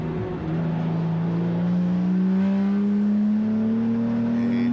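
Race car at The Bend endurance event, engine pitch climbing steadily through a gear, loud and continuous with a rising whine and no voices.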